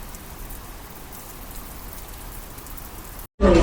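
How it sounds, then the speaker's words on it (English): Steady heavy rain pours down in Taiwan in a dense, even hiss, broken by a brief cut before a louder burst of rain noise. "It's pouring with rain"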